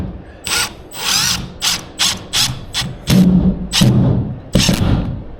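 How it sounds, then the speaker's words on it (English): A power drill drives screws into drywall in a house build, giving about nine short, loud whirring bursts in an irregular rhythm, some ending with a deeper grinding bite as the screw seats. "Now to run the screws in"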